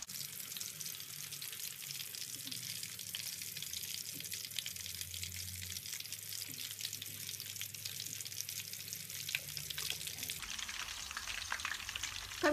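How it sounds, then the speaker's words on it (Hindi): Gola kebabs frying in oil over a medium flame make a continuous soft sizzle. Partway through, the sound shifts to a brighter, thinner hiss. "मीडियम फ्लेम पे हम इसे फ्राई कर लेंगे"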